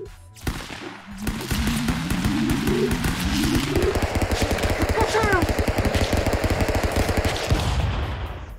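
Rapid automatic gunfire in a video game, a dense sustained burst of shots running for several seconds at close range, with a rising whine and other game effects layered beneath.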